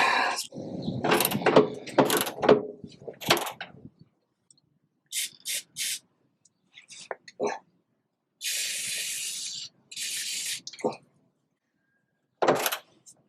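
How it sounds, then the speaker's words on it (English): Wrench work on the gas tank strap bolt of a 1969 VW Bus: scattered clanks and metallic knocks, then two longer bursts of rapid ratcheting and a final short rasp, close up, with a voice murmuring early on. "So we got to take the bolt off, and that'll release the strap"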